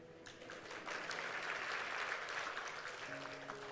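A church congregation applauds during a sermon, a moderate, fairly distant patter of many hands that swells and then fades as a voice resumes.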